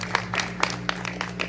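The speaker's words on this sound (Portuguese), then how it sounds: "Pode aplaudir este Deus." A congregation claps in steady rhythm during a thanksgiving church service, a run of six even, fairly loud beats over a low, sustained hum.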